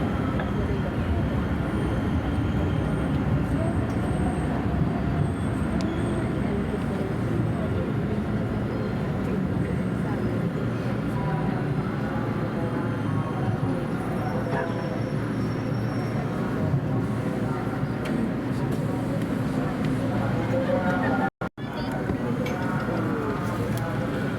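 A steady rumbling roar of a Manila LRT Line 2 train running along the track toward Araneta Center-Cubao station, continuous and fairly loud throughout, with a brief dropout near the end.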